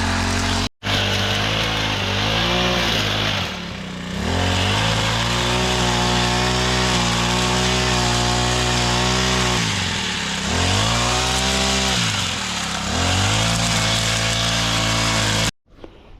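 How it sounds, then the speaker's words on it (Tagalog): A grass cutter runs loud and close in a weedy Philippine yard beside a well, its engine droning steadily with repeated revving swells and dips throughout, briefly cutting out at start and end. "Maingay, grass cutter Tulits."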